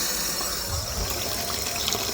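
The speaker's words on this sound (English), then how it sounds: "The water's flowing through." Water rushes steadily through a newly installed kitchen faucet whose cartridge had been clogged with rust, a constant close hiss of flow with no pauses and no talking.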